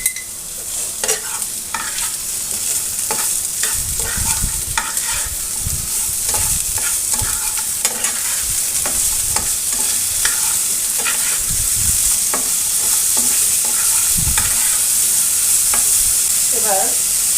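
Green banana pieces fry in oil with a little salt and no turmeric, giving a loud, steady sizzle with repeated scraping and stirring knocks from a spatula against the pan, up close and without talk.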